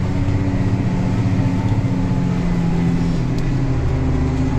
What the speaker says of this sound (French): Mais là le tracteur il en chie ici là.